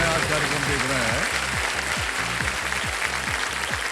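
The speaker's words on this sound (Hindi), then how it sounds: "ताल लगाने के लिए ताली पहले बज रही है" An audience on the set of the TV quiz show Kaun Banega Crorepati claps in a steady, dense wash of applause, while a voice talks prominently over it.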